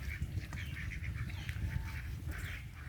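Ducks on a small farm quack in a steady run of calls over a constant low rumble of background noise, with a few fainter bird sounds mixed in and no talking.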